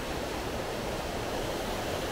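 Turbulent river rushing near a hot spring in Kutaisi, Georgia: a dense, steady roar of churning water filling the whole clip, moderately loud and unbroken, with no voices.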